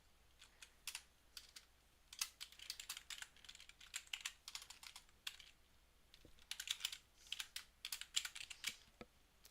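Rapid typing on a computer keyboard, with bursts of crisp, close key clicks in uneven rhythm, short pauses between runs of keystrokes, and no voices.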